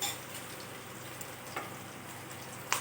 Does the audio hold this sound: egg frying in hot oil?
yes